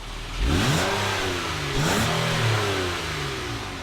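A 2014 Acura MDX V6 engine turns over and catches with keyless push-button start, then revs up twice with rising, throaty sweeps before settling toward idle, loud and close.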